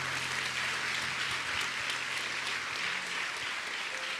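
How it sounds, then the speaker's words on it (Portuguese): A church congregation at a Sunday family service of the Foursquare Gospel Church claps joyfully in dense, sustained applause that fills the whole stretch without any talk. "Aplauda Jesus com alegria"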